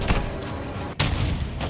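Gunfire in the video game Call of Duty: Modern Warfare 2, a dense, loud burst of shots filling the clip, with a brief dip near the middle before the firing resumes just as heavily.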